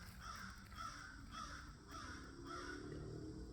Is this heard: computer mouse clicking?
no